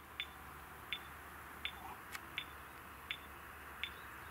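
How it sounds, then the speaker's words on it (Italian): A household alarm gives a series of short, evenly spaced high beeps, each about three quarters of a second apart, faint against a steady low background hum with no talking. "Ah, l'allarme."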